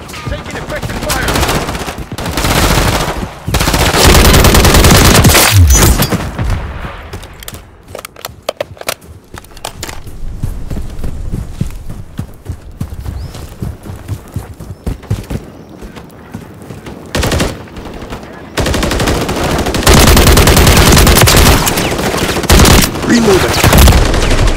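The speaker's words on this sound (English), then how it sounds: "Taking effective fire." A battle rifle in Modern Warfare 3 fires rapid loud bursts, with heavy sustained automatic fire at the start and again near the end, and quieter stretches of scattered shots and game noise in between.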